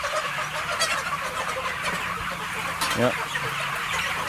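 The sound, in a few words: chickens clucking on a pasture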